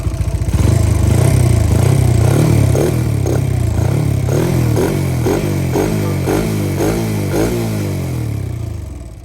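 A 110cc motorcycle engine with unadjusted valves runs loudly up close, its rough mechanical clatter rising to a rev and then settling into a slower, pulsing throb as it winds down.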